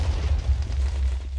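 A continuous low, rumbling explosion from the Minecraft video game, with steady booming bass throughout and no talk.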